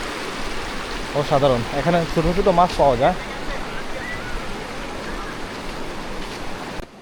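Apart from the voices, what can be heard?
stream flowing over rocks near Bichanakandi, Sylhet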